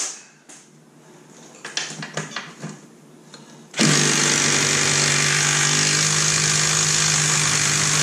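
Impact gun working a stuck nut off a 2005 Arctic Cat front differential, a sudden loud sustained rattling burst that starts after a few seconds of quieter clinks and handling noise, close up.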